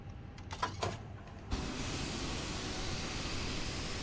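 A Fenix A320 in Microsoft Flight Simulator 2020 begins its takeoff roll out of Boston. A few brief mechanical whirs come first, then the engines surge into a steady broadband roar that holds to the end.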